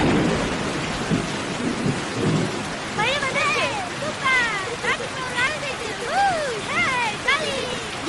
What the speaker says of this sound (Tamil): மழை வரணும்.